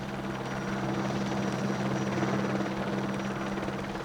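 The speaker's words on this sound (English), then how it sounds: "Helicopters have gained an important role in transporting firefighters and equipment." A helicopter hovers steadily over a forest fire scene as firefighters rappel to the ground, its rotor and engine making a constant, loud, even drone with a low pulsing hum that runs unbroken for the whole stretch, with no talk.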